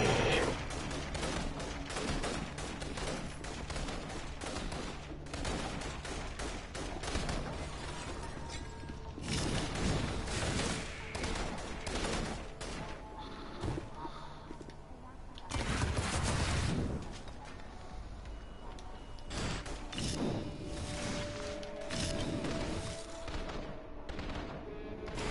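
Sustained gunfire rattles through a battle in the video game Infamous Second Son, bursts of shots and crashing impacts layered in busy game audio, loud and steady throughout with a few heavier swells.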